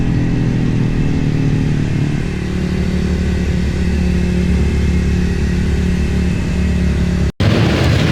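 Yamaha TZ 350 two-stroke racing motorcycle, a reverse-cylinder build, on track at Snetterton during a classic race meeting; a loud, steady engine drone held close for several seconds, with a brief dropout near the end before it resumes.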